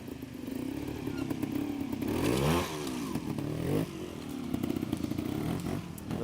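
Trials motorcycle ridden by an expert through a section at a club trials event, engine revving up and dropping back in bursts with some clatter over the ground, mid-distance and moderately loud, with no talking.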